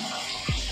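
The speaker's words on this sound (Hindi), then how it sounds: "यहाँ पे है गर्म पानी आता है सुबह के टाइम इसलिए हमें भरना होता है जल्दी जल्दी" Hot water runs from a tap into a container in a hostel bathroom, a steady rushing gush with a brief surge of splashing partway through, close and fairly quiet, with no speech.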